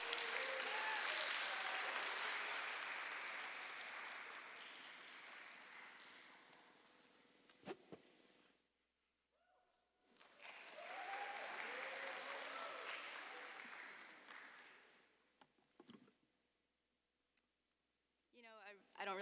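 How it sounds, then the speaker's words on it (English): Audience applause for a student election candidate, a full sustained round that fades out, followed by a brief pause, then a second wave of clapping, with scattered clicks and handling noises near the end. "let's give her a warm round of applause"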